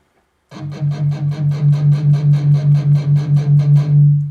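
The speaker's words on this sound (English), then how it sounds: "But when you're actually palm muting, it sounds like this." Rapid, evenly spaced chugs of a palm-muted distorted electric guitar, about a dozen tight, punchy strums in steady rhythm, loud and up close.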